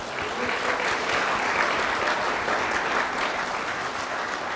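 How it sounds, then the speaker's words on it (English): A large audience at a campus evening event applauds steadily, a dense, sustained wash of many hands clapping at once, loud and even throughout with no talking. "if that doesn't deserve a round of applause, I don't know what does"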